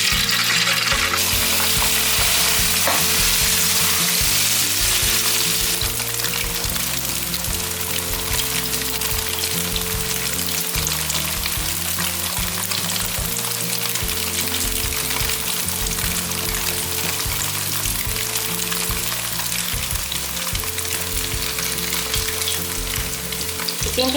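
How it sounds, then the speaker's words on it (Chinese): Tofu pan-frying in oil in a wok, giving a loud, steady, continuous sizzle that fills the whole stretch with no talking, over faint background music. "现在利用锅内的油来煎豆腐。"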